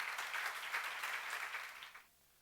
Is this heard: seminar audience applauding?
yes